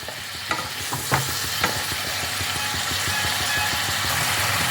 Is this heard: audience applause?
no